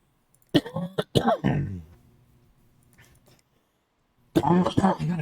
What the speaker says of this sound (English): I can't shake this fucking cough